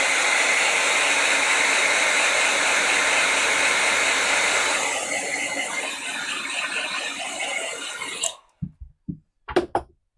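A hair dryer blows steadily to dry paint, loud and close, the airflow roughening partway through before it cuts off, followed by a few short clicks and knocks.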